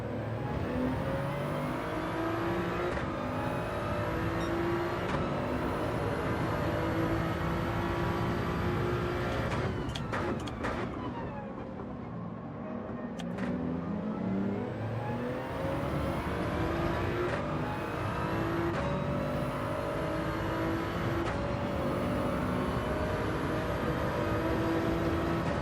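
A Toyota Supra on hard tyres in Gran Turismo 7 roars through a race, its engine climbing and dropping through repeated gear shifts. Other cars drone around it, and a brief lull follows a braking section.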